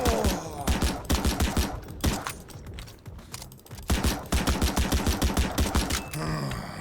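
Rapid gunfire crackles in Madness Project Nexus classic arena mode, dense volleys of shots in fast rhythmic bursts that pause briefly midway, then resume and empty the magazine.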